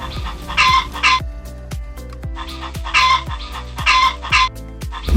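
A hen clucks in four short, loud bursts at a regular rhythm, set against a steady pitched musical backing of repeated falling tones.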